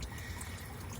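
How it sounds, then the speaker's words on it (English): Coolant drains steadily from a vehicle with a failed water pump, a continuous close pouring trickle with no break. "that's coolant draining"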